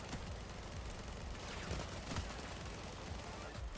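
A shotgun fires repeatedly in the heist shooter Payday 3, a dense, continuous barrage of blasts with no pause across several seconds, quiet overall and without talk.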